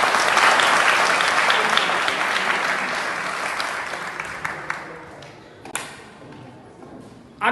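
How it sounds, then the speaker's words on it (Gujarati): An audience at a Jain community stage play about Nem Rajul claps loudly for the actors playing the king and queen, a dense burst that gradually thins to scattered claps. "ખરેખર રાજા રાણી માટે એક વખત જબરજસ્ત તાળી."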